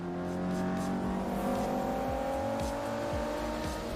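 Race cars in the Forza Motorsport video game roar along with a sustained high engine whine and a few rising and falling rev sweeps, at moderate loudness and with no voices.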